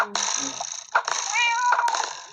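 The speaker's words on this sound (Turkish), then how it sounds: "kedi gördünüz mü arkadaşlar?" A cat meows close by, a few drawn-out, rising and falling cries in quick succession.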